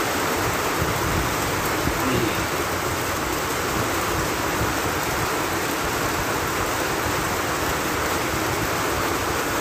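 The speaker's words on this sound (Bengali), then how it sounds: "বাইরে প্রচুর পরিমাণে বৃষ্টি হচ্ছে।" Heavy rain pours down outside, a dense, loud and unbroken wash of noise with no breaks and no voices.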